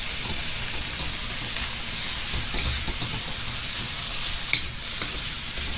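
Small, skinny asparagus spears sizzle steadily in a hot stir-fry pan with shrimp cooking nearby, a continuous close frying hiss with occasional stirring scrapes and no talking.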